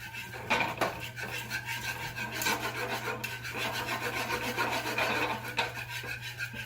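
Butter is worked into a beurre blanc sauce in a pan, producing a steady scraping and rasping of utensil against metal with a few sharper knocks, close and continuous, with no voices.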